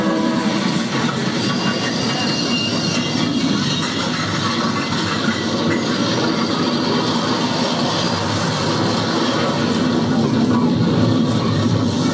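The Alderney Express train enters a lighthouse tunnel, a steady, loud, enveloping rumble and roar with dense rolling noise holding constant throughout and no clear breaks.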